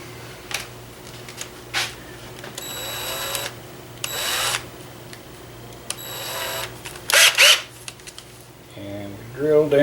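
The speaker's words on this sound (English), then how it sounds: "we drill down through my marked spot, trying to keep as straight as possible" Small drill with a 1/16 inch bit boring a hole through a marked spot on a gun part in a gunsmith's workshop, whining in short bursts between steady workshop hum and scattered clatter.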